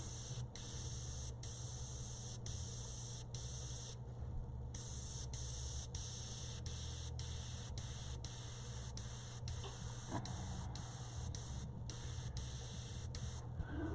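An airbrush sprays heavily thinned paint onto a bio-mechanical cyber girl illustration, a steady soft hiss running throughout, briefly interrupted by short regular gaps as the trigger is released, with no voices.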